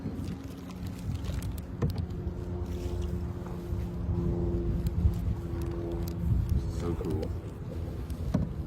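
A canoe is paddled across a lake on a late-autumn camping trip, with steady water movement and wind noise throughout and faint voices in the background.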